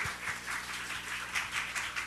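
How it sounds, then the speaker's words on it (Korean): Church congregation at a Sunday worship service clapping together, a fairly soft, steady patter of many hands with slight rhythmic pulses and no talking over it. "우리 하나님께 박수 올려드려요."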